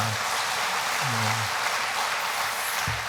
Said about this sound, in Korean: 우리 하나님 앞에 감사 영광의 박수 한번 드립시다